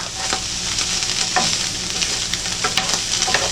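A small spatula scrapes and stirs mushroom and onion gravy in a pan, with irregular clinks and scrapes over a constant close sizzle.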